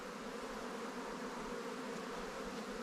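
Honey bees hum in a steady, dense buzz throughout a hive inspection, close and continuous with no talking.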